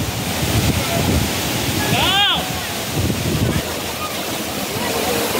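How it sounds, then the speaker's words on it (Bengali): A waterfall at Pelling pours down in a constant broad rushing roar, close and loud, with a short tonal chirp rising over it midway and some wind buffeting on the microphone. "এখানে জলটা পুরো পড়ছে।"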